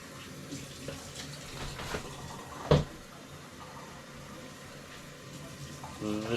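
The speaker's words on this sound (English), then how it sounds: "And then you want to do 3 cups of water." Water from a faucet runs and pours into a container for pickled egg brine in a home kitchen, a soft continuous trickle with a brief louder splash partway through.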